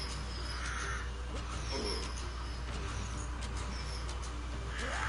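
Crows in the Vikings Wolves of Midgard video game give a few harsh caws against a steady bed of game ambience, moderately faint and scattered.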